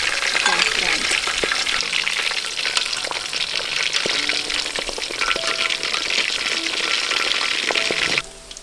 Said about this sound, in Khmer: ហើយយើងដាក់សាច់ជ្រូកហ្នឹងយកទៅបំពង